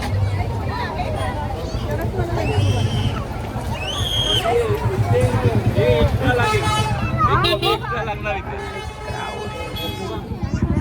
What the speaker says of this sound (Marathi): फुल क्राऊड.